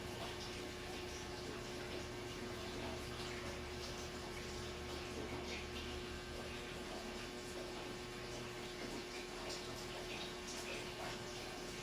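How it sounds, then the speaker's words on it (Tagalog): Tap water runs steadily in a bathroom while someone brushes their teeth, a constant hiss of flow at moderate level with no clear brushing strokes standing out, heard alone without talk. "dapat mag-toothbrush talaga."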